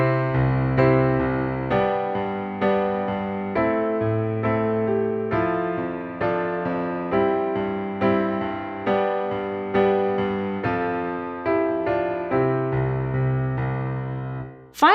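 Piano playing, with steady repeated chords and a melody over a rolling rhythm. The playing is clear and close, with no talking.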